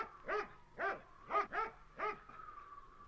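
Dogs bark about five times in quick, uneven succession, fairly close and clear. A faint whimpering tone trails off at the end.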